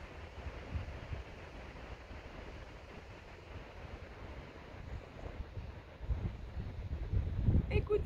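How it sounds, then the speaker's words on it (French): Steady wind gusts across a rocky, sandy beach, buffeting the microphone and building louder near the end, while a voice speaks faintly underneath. "Bon, beaucoup de vent."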